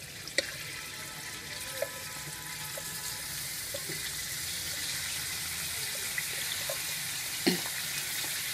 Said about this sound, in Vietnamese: bây giờ mình cho vào xào các bạn nhé